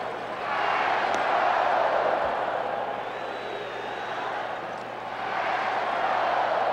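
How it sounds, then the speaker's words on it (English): A large 1980 baseball crowd at the Houston Astros' home ballpark chants in a swelling, rhythmic roar that rises and falls twice, filling the background. "Crowd chanting Houston Astros"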